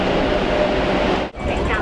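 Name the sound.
metro train at a Hong Kong subway station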